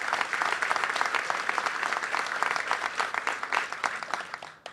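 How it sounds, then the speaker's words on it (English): A room full of people at a Connecticut River National Blueway designation event claps steadily, a dense, even patter of applause lasting throughout. "Give her a round of applause."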